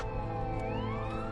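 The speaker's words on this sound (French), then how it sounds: "c'est la deuxième ambulance que je vois passer" An ambulance siren passes on a road after a head-on collision, its tone sliding in pitch as it goes by, loud and continuous with traffic rumble underneath.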